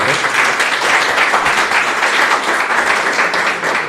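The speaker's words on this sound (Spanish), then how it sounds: "Vamos a dar un fuerte aplauso al Señor." A church congregation breaks into loud, sustained applause, dense hand clapping filling the room steadily for several seconds with no pauses.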